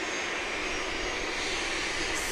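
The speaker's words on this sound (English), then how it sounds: "No, this is a Bombardier Challenger" A Bombardier Challenger 300 business jet at Grand Cayman airport gives a steady, loud engine roar and whine that holds unbroken, with no talk over it.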